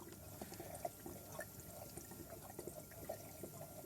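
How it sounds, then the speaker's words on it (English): Water gurgling down an aquarium drain through a short length of airline tube, a faint, steady trickle with soft intermittent glugs over low background hum. "you can hear it start glugging."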